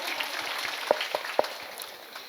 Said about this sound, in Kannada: ನಾವೆಲ್ಲರೂ ಸೇರಿ ಮತ್ತೊಮ್ಮೆ ಜೋರಾಗಿ ಒಂದ್ಸಲ ಚಪ್ಪಾಳೆ ಕೊಡ್ಬೋದಾ ಜನತಾ ಸಂಸ್ಥೆಗಾಗಿ